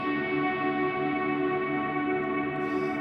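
A guitar run through a reverb set to infinite decay, its tone hanging as a dense, steady wash with layered sustained harmonics and no fading, loud and continuous, part of ambient worship guitar exploration.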